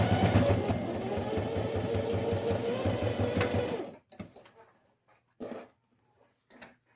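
A sewing machine stitches fabric boxes for a box-style toiletry bag, running loud and continuous for about four seconds before stopping, followed by a few brief quieter bursts and handling noises.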